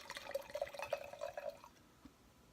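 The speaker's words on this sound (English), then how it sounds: "I'll pour a glass." Wine pours into a glass with a short trickling, gurgling stream for about a second and a half. The pour is close and quiet, then stops, leaving a faint drip.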